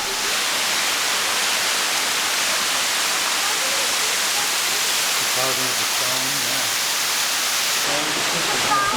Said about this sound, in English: Florida's highest waterfall.